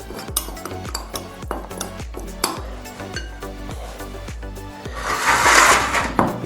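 A utensil clinks and scrapes rhythmically against a bowl while mixing a pastrami seasoning of salt and nutmeg, with repeated light metallic taps and a brief louder rustling scrape near the end.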